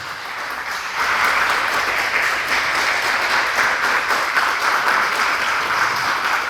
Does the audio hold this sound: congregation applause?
yes